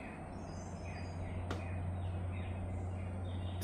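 Faint birds chirping and singing in the distance over a low steady hum, with one sharp click partway through.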